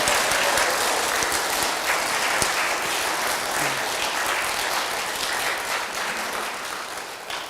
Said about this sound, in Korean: 감사의 박수 또한 하겠습니다.